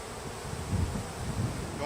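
Honeybees swarm a modified hive during installation, a dense, steady buzz heard up close that swells and fades slightly over a couple of seconds.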